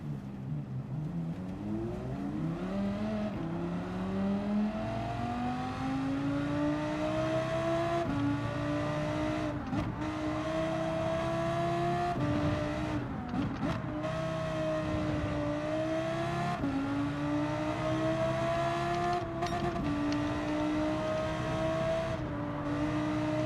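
Race car engines howl at Suzuka in Gran Turismo 7, one loud, close engine climbing steadily through the revs and dropping briefly at each upshift, then rising again over a continuous roar with no talking.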